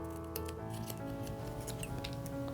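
Small scissors snip through a silk nail wrap along the cuticle line during a nail art exam, making a close, crisp series of quick, irregular cuts over faint room hum.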